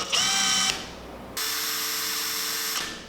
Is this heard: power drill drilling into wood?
yes